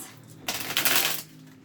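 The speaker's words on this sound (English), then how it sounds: "I'm going to shuffle on camera just to get this energy flowing" A deck of tarot cards riffled in a quick shuffle close by, a short papery flutter that swells and fades within a second over a quiet room.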